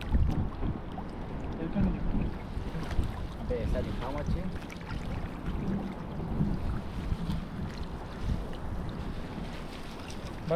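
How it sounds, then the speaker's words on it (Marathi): A small fishing boat moves across open water near Mumbai, with wind buffeting the microphone and a low engine rumble throughout. "ही होडी आली होडी त्याला सुद्धा म्हणतात"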